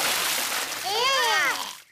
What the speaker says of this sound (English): Daddy Pig has splashed everyone with water.